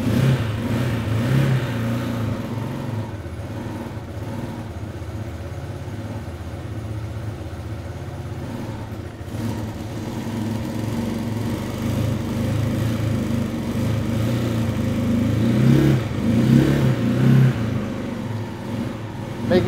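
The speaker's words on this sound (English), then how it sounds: "I'm going to turn the throttle just a little bit to crack it open, and then I will start my bike using the start button." A Janus 250 motorcycle engine with the throttle cracked slightly open runs in a steady, close, mid-loud rumble, swelling briefly near the end with a few light revs.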